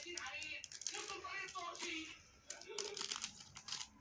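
A paper packet of yeast crinkles and rustles in a kitchen while baking, with a few short bursts of crackling close by and someone speaking softly between them.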